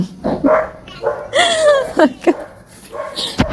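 A dog barks and yips in several short, sharp bursts nearby, scattered through the moment with brief gaps, fairly loud against a quiet indoor background.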